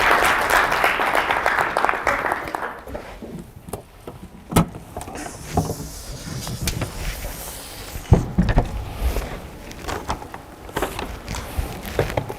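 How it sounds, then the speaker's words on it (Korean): Audience applause welcoming a presenter at a talk on school smart gym rooms, a scattered burst of clapping with irregular knocks and shuffles, moderately close. "큰 박수로 맞이해주세요"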